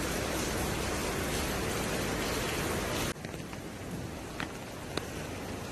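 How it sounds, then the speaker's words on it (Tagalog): Heavy rain pours during a storm as a dense, loud hiss that cuts abruptly to a softer patter with scattered drops. "Malakas yung ulan kanina eh."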